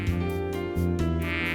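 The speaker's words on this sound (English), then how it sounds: "ええ、小型の採血マイクロマシンよ" A malfunctioning robotic blood-sampling mosquito micromachine in the Policenauts video game gives a continuous, close, droning insect-like buzz that wavers slightly in pitch, with no talk over it.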